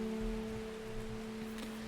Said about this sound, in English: Rain is kind of drowning you out.